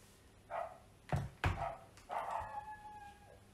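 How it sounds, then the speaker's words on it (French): Neighbouring dogs bark several times at a distance, a few sharp yips in between, ending with a drawn-out wavering howl, faint and alone without any speech. "Je crois que j'ai réveillé les chiens des voisins."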